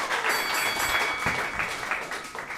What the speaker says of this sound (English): give my roasters a round of applause.